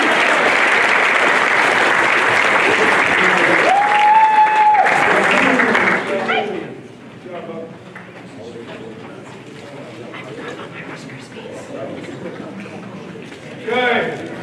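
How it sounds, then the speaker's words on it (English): Audience at a freshman football banquet claps loudly and steadily for several seconds, then the applause drops to scattered murmurs and light room noise. "You guys give them a round of applause."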